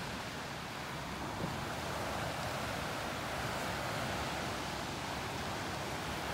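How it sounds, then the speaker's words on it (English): Small ocean waves at a beach in North Naples, Florida on a morning walk, heard as a steady, continuous wash of surf with no distinct breaks, moderately loud and alone. "Got some little waves out there this morning."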